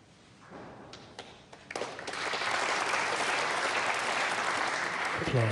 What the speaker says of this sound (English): Applause from the crowd